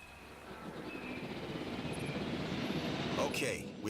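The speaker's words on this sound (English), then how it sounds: "now we are going to pilot a helicopter" Helicopter in the Jurassic World Evolution video game, a steady rotor and engine drone building slightly in loudness throughout, with a brief brighter burst near the end and game sounds layered over it.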